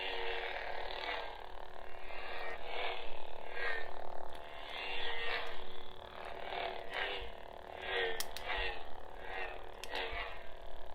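A Hasbro Force FX lightsaber is swung repeatedly, giving a string of short, quiet whooshing pulses over a continuous buzzing hum, roughly one swing per second.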